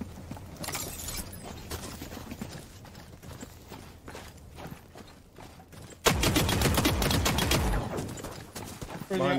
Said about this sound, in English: Someone shot right behind me.